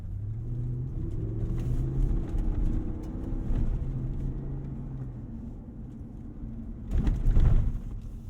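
A Ford F-250 Super Duty Tremor with a 7.3L V8 rolls off pavement onto rough ground, its deep engine rumble steady and close, with a few hard thumps and rattles from the truck taking the bumps.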